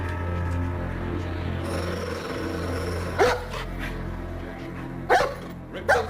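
A dog barks three times in short, sharp bursts, close by and loud, over a steady low background hum in a quiet house at night.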